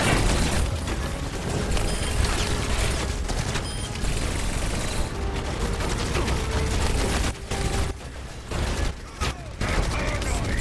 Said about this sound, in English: Oh, that was your turret